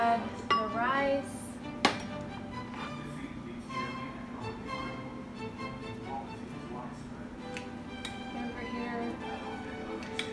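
Rice goes into a cooking pot amid sharp clinks and scrapes of metal utensils and cookware, with a louder knock near the start and scattered ticks after, while a voice talks over the kitchen noise.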